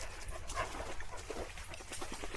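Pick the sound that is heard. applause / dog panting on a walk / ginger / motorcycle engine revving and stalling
dog panting on a walk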